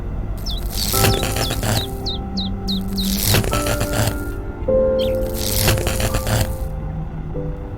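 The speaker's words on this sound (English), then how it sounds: "The duckling was hatching." A hatching duckling gives repeated short rising chirps in bursts, mixed with cracking, scraping and squishy handling noises close up.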